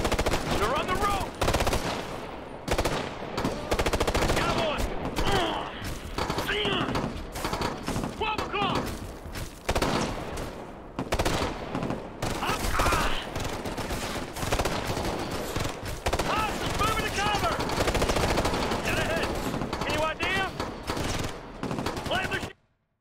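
Sustained bursts of assault rifle fire from the video game Ghost Recon Future Soldier, loud and continuous, with several volleys overlapping and voices shouting over the shooting.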